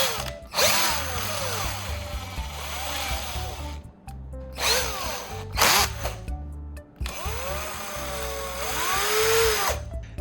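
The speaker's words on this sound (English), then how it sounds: "Now I'm going to attach it to the drill." A power drill fitted with a rivet shaft as a mini grinding tool runs in three long bursts, each whining up to speed and winding down, with short pauses between, loud and close with no talk.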